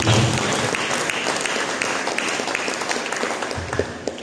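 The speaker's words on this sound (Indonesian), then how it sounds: "Mari kita berikan tepuk tangan." A church congregation applauding together, a dense steady wash of many hands clapping at once, loud and continuous throughout, slightly fading toward the end.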